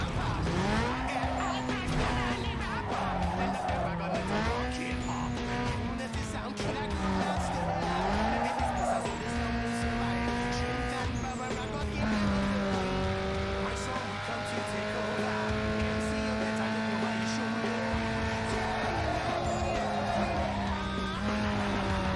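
A car in a racing video game drifts with a revving engine whose pitch rises and falls through gear changes, while tire squeal runs continuously underneath at a loud, close level.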